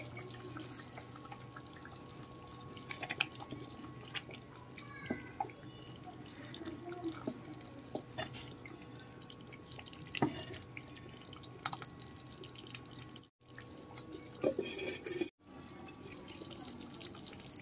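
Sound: amaranth leaf tamarind stew (thotakura pulusu) simmering in pot

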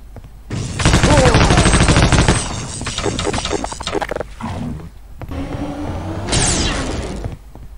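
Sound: machine gun firing in a video game

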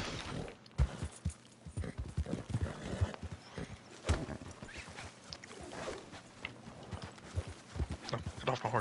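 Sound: horse galloping and neighing in video game Red Dead Redemption 2

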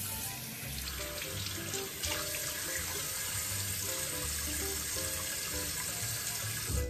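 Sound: water running from a tap to wash the face

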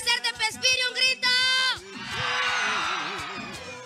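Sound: crowd shouting in a town square

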